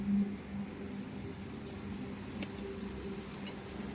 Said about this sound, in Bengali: আর এটা একটু ভেজে নেব পেঁয়াজটাকে লাল লাল করে ভেজে নিয়েছি